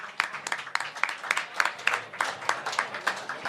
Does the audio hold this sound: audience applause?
yes